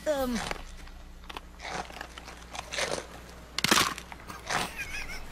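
Crunchy bites into an apple spice muffin in an animated show: several sharp, crisp crunches with chewing in between, close and fairly loud, mixed with brief vocal sounds.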